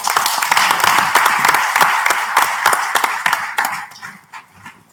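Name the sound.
audience applause after a speech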